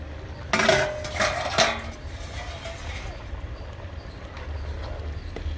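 A metal lid comes off a pot of shrimp and egg khichuri after half an hour of cooking: two sharp clanks of metal close by, followed by quiet scraping and stirring against the pot.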